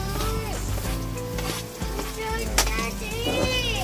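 Sliced onions hit a hot pan and crackle into a lively sizzle, with a few clinks and stirring scrapes against the pan, close and fairly quiet.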